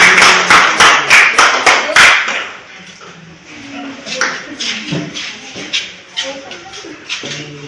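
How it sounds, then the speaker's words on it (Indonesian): Audience applause after a group's classroom presentation: a burst of many hands clapping in a dense patter for about two seconds, then thinning into scattered claps and murmuring voices. "mari kita berikan aplaus"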